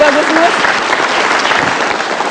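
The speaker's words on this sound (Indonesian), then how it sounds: "Untuk Mata Najwa kita kasih tepuk tangan." Loud, dense applause from a studio audience at an Indonesian television talk show, sustained throughout, with a brief voice audible near the start.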